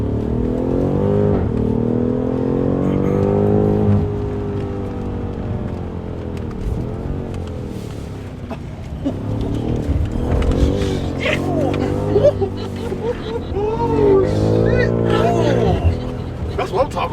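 A BMW G80 M3 on a hot lap, its engine note rising and falling loudly through gear changes, with excited voices talking over the constant roar inside the car.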